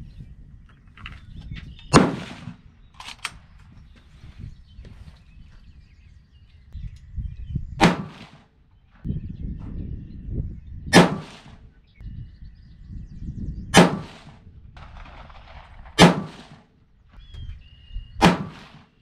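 A .224 Valkyrie rifle loaded with 77-grain Sierra MatchKing bullets over Reloader 17 powder fires a five-shot group, five sharp, loud cracks spaced a few seconds apart over quiet outdoor background noise.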